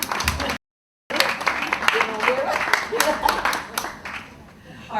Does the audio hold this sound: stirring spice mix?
no